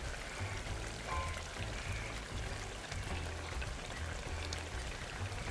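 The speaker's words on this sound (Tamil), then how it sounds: "நாங்கள் தக்காளி பழம் புளி தண்ணி எல்லாம் விடுறோம்" Tamarind water and tomato poured into a pot of bitter gourd make a continuous liquid pour and splash lasting several seconds, close up with no speech.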